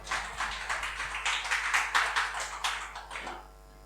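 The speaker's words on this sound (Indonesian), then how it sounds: "Tepuk tangan buat aku." Church congregation clapping during a Sunday service, a lively run of claps in a quick, uneven rhythm that carries for several seconds and then stops, leaving faint room hum.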